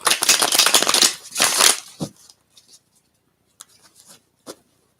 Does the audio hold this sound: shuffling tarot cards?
yes